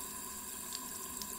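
Tap water runs steadily into a sink while being warmed for a scalp wash, a quiet continuous hiss with a few faint drips over it.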